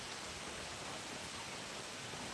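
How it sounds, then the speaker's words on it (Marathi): Steady, dense hiss of medium rain falling with wind in Pandharpur taluka, continuous and even throughout, with a broad rushing quality, no thunder and no voices. "वाऱ्याबरोबर मीडियम स्वरूपाचा असा पाऊस सध्या चालू आहे"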